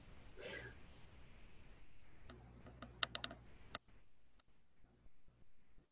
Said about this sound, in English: Assuming he's typing.